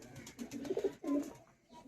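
Malbai pigeons kept for sale give a soft, close coo in two short rounded phrases, faint and alone, with no voices.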